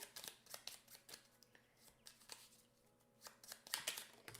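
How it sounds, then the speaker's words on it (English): A deck of Tokaido board game cards shuffled at a table, quiet riffling and flicking in short uneven bursts, faint and close with no voices. "I do have to shuffle up these cards again"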